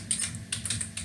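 C++ code is typed on a computer keyboard in quick, close keystrokes, a short burst of uneven clicks with brief pauses and no speech.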